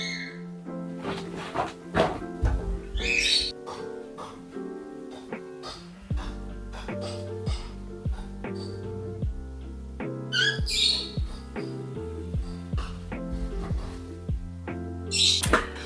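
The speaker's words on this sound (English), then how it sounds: "I couldn't handle my birds screaming for attention" Pet birds squawk and scream for attention in loud, repeated bursts of harsh shrieks and chirps over busy background sound, close by with no talking.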